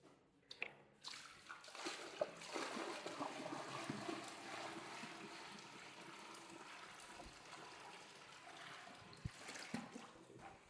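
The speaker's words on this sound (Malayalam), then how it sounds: "നമ്മൾ ഒരു ബക്കറ്റ് വെള്ളം ഒഴിച്ചിട്ടുണ്ട്." Water from a bucket is poured into a newly fitted toilet bowl, making a steady, close rushing and trickling flow that lasts several seconds with no talking.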